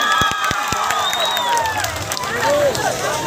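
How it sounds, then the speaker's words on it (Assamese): Audience at a Bihu comedy show in Gogamukh, clapping and cheering as a crowd with a few loud individual claps up front, blending into shouting and babble of voices. "হাত চাপৰি দলিয়ালে হ'ব দেই"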